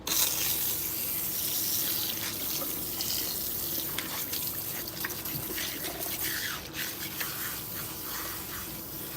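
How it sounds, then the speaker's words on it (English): Water running steadily at a salon sink as hair with K-tip extensions is rinsed, a continuous close splashing flow with small shifts as hands move through the stream. "I'm gonna go ahead and rinse out the soothing balance that we just put on"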